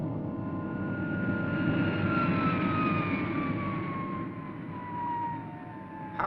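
Supercar aircraft switching over to vertical flight, a loud steady engine whine with pitch lines gliding slowly downward, then dipping and swelling again near the end.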